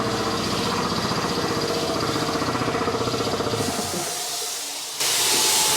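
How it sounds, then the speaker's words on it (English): An air compressor runs in a garage during car body welding and painting work, a loud steady rattling pump with hiss that stops partway, leaving a brief lull before a burst of hissing air. "The compressor here."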